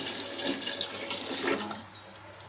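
Water pours steadily into a cooking pot, a continuous close splashing and gurgling stream with no talking.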